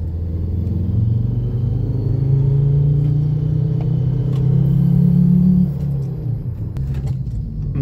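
A car engine rumbles low and steady, its pitch rising as it accelerates for several seconds, then easing off; no voices.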